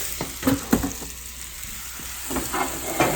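Beyond Meat Italian meatballs sizzle in a hot pan with the heat turned off, a soft continuous frying hiss broken by a few close clicks and taps of a utensil.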